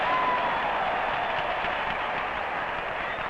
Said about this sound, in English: I think this is about the noisiest crowd I've ever heard